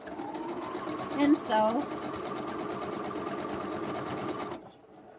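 A sewing machine stitches steadily at a fast, even whir through piecing for a quilt star block, running continuously up close before cutting off near the end, with a brief voice speaking over it.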